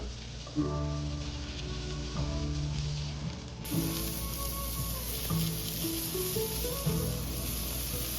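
Smash burger patties frying on a hot griddle, a constant loud sizzle with some crackling, close by, while background music plays underneath.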